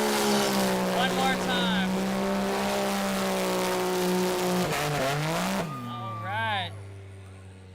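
Side-by-side vehicle doing a burnout at a racing event: a loud sustained engine roar with tire spin that holds steady, then drops and revs again near the end. A person speaks briefly over it.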